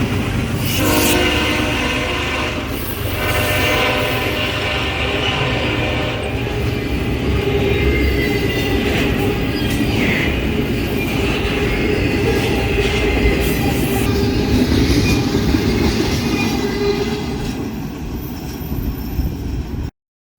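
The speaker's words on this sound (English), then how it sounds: "CSXT 5458 leading a southbound intermodal train through Hartselle" CSXT locomotive 5458 leads a southbound intermodal freight train rumbling past steadily through Hartselle, Alabama, with clattering wheels while a horn sounds over the noise, loud and close throughout.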